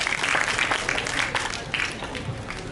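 Audience applause for the team behind a school Model United Nations closing ceremony, a steady wash of clapping held for nearly three seconds at moderate loudness, with some voices mixed in.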